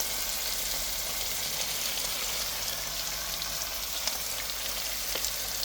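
Onions, tomatoes and chili powder fry in a pan for a village-style drumstick and egg curry, giving a steady, close, unbroken sizzle that holds at an even level throughout with no talking.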